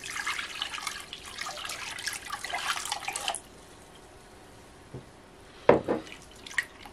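Water pours steadily into a bowl while preparing bread dough with dry yeast and sugar, a hissing stream for a few seconds, then stops, followed by a couple of faint clinks and drips.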